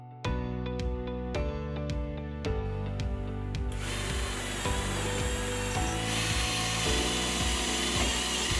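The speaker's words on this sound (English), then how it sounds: "Clearance holes are drilled through the hull every 8 inches following the line of the frame inside and out." A power drill bores clearance holes through the wooden hull of a 1942 MGB 81 motor gun boat under restoration, several short whirring bursts followed by a longer, louder continuous drilling run, close up.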